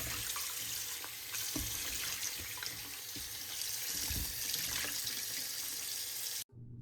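Kitchen tap running steadily over zucchini and yellow squash being washed in a sink, a continuous close splash with small bumps of handling, ending abruptly when the water shuts off.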